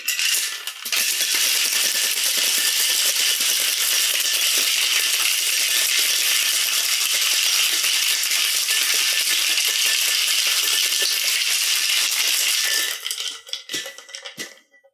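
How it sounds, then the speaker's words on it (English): A cocktail shaker packed with ice for a tequila drink is shaken hard and fast, giving a loud, dense, continuous rattle of ice against metal for about twelve seconds before it slows into a few scattered clunks. "Throw some ice in here. And now, we do the shake."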